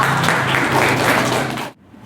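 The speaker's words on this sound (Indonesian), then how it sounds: "Beri tepuk tangan untuk Risma" A classroom of students applauds a classmate, a thick wash of many hands clapping close and loud, then cutting off abruptly into near silence.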